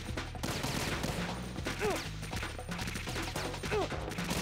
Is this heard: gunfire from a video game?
yes